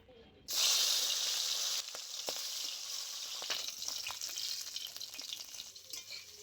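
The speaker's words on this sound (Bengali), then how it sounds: "তেল খুব ভালো করে গরম করে নিয়েছি এবার মাছটা ভেজে নেব" Shingi fish frying in hot mustard oil in a wok gives off a sudden loud sizzle as it goes in, then settles into a steady close hiss with scattered spits and pops.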